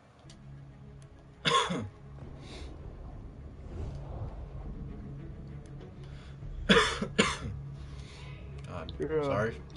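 Coughing during a session of the first-person shooter game Battlefield 1, with two loud, close bursts of coughs, one near the start and one later, separated by quieter background noise; someone talks between them.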